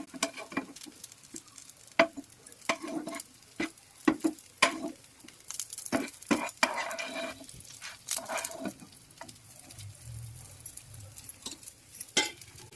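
Murmura (puffed rice) cutlets cooking in a pan with a little oil, giving soft irregular crackles and pops with occasional sharper clicks close by, no talking.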